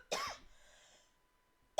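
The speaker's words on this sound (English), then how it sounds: "I need to cough." A single close, sharp cough from a podcast host at the microphone, one harsh burst followed by a fading tail and near silence.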